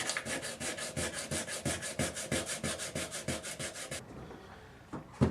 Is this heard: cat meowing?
no